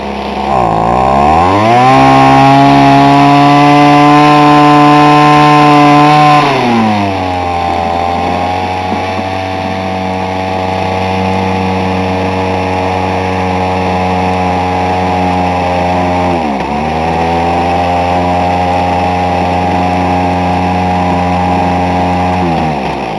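An old Homelite weedeater engine runs with the choke off, a loud, close, buzzing two-stroke whine that starts high, drops to a lower steady drone, then dips briefly and recovers.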